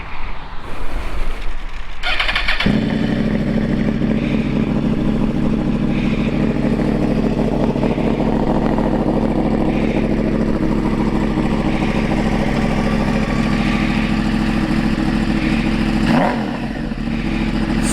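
A 2012 Yamaha R1 sport motorcycle cranks and fires after a brief clatter, then settles into a steady, loud, close idle with a deep rumble that blips slightly near the end.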